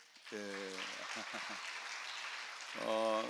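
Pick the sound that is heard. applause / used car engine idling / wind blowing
applause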